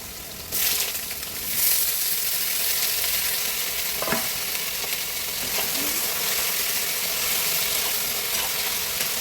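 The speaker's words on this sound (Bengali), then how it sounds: "হ্যাঁ, আলু ভাজা করছি।" Potatoes fry in a pan with a continuous loud sizzle, and occasional scrapes and clinks come as they are stirred.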